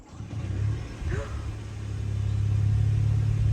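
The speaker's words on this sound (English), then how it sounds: "And the car just started itself out of nowhere." A nearby car engine turns over with a brief whine and then settles into a steady, rising idle rumble over a few seconds, with no talk.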